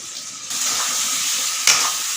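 Cabbage curry with turmeric and salt sizzles steadily while frying in a pan, with a brief louder scrape of stirring near the end.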